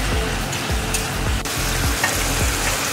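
Crab sizzles loudly in hot spiced oil for a curry, a dense continuous frying crackle up close, with soft rhythmic scraping as the pieces are stirred in the pan.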